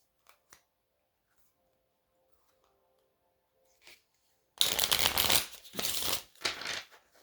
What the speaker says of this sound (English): Let me shuffle and see.